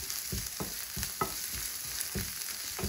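Grated ginger and garlic paste sautéing in a hot pan for a Maharashtrian festival thali, a steady close sizzle broken by repeated rhythmic scraping strokes of a spoon stirring, with no talking.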